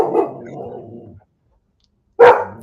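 A dog barks indoors at close range. A growly bark fades out, then after a short silence comes a single loud, sharp bark.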